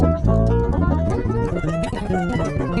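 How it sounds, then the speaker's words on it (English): Bass guitar run through a TC Electronic Brainwaves pitch shifter pedal, a loud, close phrase of shifted notes with a higher octave, slightly guitar-like tone, played alone. "It's called the Brainwaves Pitch Shifter by TC Electronic."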